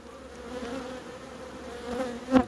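Honeybees buzzing around the supers of a beehive during an inspection: a steady, close, droning hum with a bee passing near the end in a brief louder swell.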